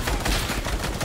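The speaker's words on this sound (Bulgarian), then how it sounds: "Те други го стрелят." Rapid gunfire in a duo arena shooter game, a dense burst of repeated shots crackling loud and close without a break, with no talk over it.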